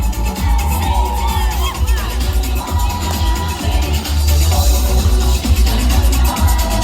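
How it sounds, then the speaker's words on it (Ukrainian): A crowd cheering and whooping at the Kazan fair, a dense, loud, continuous wash of shouts and voices with scattered high calls throughout. "Поддержим наших участников аплодисментами!"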